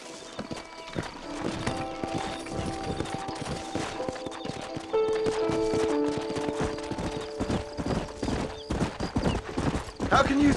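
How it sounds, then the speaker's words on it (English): Horse hooves clip-clop steadily in Red Dead Redemption, a rhythmic run of hoofbeats with an occasional whinny, heard over a low musical score and faint ambient noise. "Horses are over here!"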